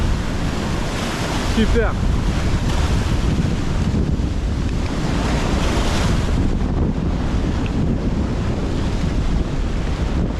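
Ocean surf breaks steadily on a stormy shore during shore fishing for sea bass, a continuous loud roar mixed with heavy wind buffeting the microphone, with a single brief spoken word.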